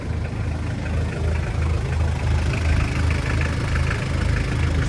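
A turbocharged car engine idles steadily at a roadside car market, with a low continuous rumble that stays close and even throughout and no speech over it.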